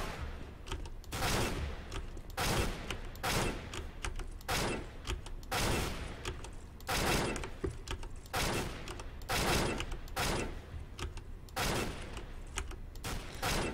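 FAMAS rifle firing in a modded video game, rapid bursts of loud, close shots repeating every second or so with brief gaps between, a low muffled hum underneath.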